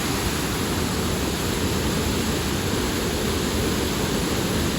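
A waterfall on a forest trail roars during a heavy thunderstorm with pouring rain, a loud, dense, unbroken rush of water with no pauses.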